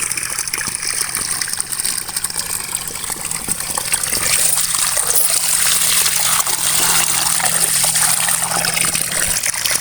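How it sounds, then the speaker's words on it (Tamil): Thumbai greens being washed in water, with a steady rush of running or splashing water that stays fairly loud and continuous throughout, without talk. "இப்போ வாங்க நம்ம கீரையை கழுவிக்கலாம்"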